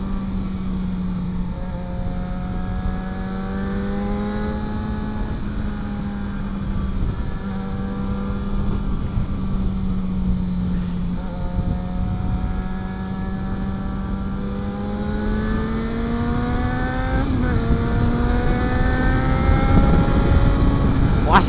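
A Yamaha XJ6 motorcycle accelerates on the road, its engine note climbing steadily through the gears with a brief shift dip before rising again, loud and close throughout.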